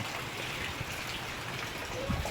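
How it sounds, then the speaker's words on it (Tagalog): Heavy rain pours down in a steady, dense wash of broadband noise with a low rumble underneath. It holds constant for a couple of seconds, with a slight swell near the end. "Tapos biglang bubugso na malakas ang ulan."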